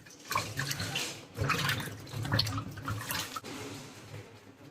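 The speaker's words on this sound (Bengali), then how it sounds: "এই যে ভালো করে সবজিগুলোকে একটু ধুয়ে নিচ্ছি" Tap water running over vegetables being washed by hand for a ghee rice dish in a home kitchen, a steady close splashing stream with uneven surges as the produce is rubbed and turned.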